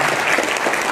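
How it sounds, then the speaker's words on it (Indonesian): Audience applause at a national seminar in Gayo Lues, Indonesia, a steady dense clapping from a crowd that fills the whole second at even loudness. "Tepuk tangan sekali lagi."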